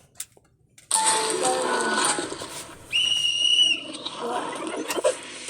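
A coach's whistle gives a short sustained tone, then a second higher steady blast, loud and close, with a faint chime-like ring earlier and some background noise.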